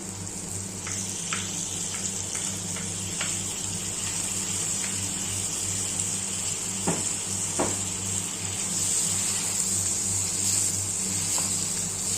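Green chicken frying in a pan with chopped capsicum added gives a steady, continuous sizzle, with a few light clinks and stirring knocks scattered through the hiss.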